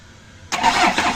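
An Isuzu 4HF1 truck diesel engine with a no-start fault and no fuel coming through is cranked: after a short quiet stretch, a loud, close starter-and-engine roar kicks in abruptly and runs steadily to the end.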